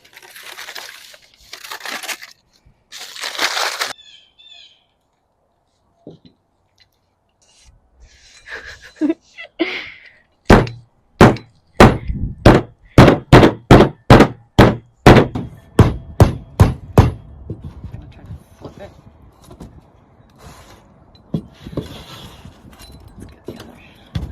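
A Cuban sandwich is smashed with rapid, sharp pounding blows, a dense run of around twenty loud close thumps, with some rustling and scattered speech before and after.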